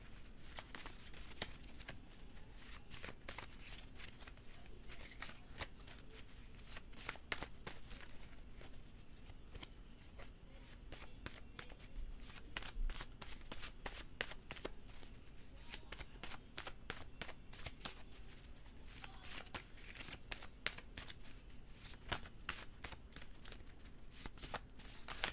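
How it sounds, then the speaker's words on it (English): Tarot cards being shuffled by hand, a long run of quick, crisp riffling flutters repeated in steady bursts, close and fairly quiet, with no talking. "Shuffle them real good."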